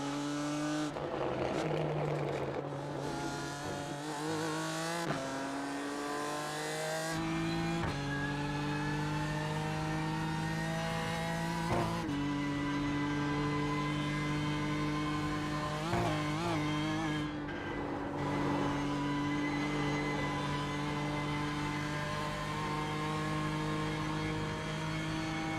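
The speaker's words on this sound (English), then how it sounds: "You can hear the backfiring from the exhaust." A race car engine running hard on a track during a test session, heard as a loud continuous drone with rising and falling revs as gears change, punctuated by sharp exhaust backfire pops and crackles.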